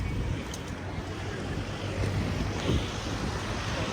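A boat moving on water in Berlin, with a steady rushing wash of water and wind noise, a low engine hum underneath, and no voices.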